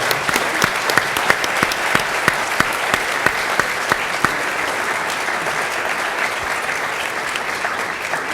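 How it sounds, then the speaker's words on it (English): An audience gives a sustained round of applause at a public talk, a dense, even wash of many hands with a few sharper nearby claps standing out early on. "I think we owe you another round of applause right at this moment"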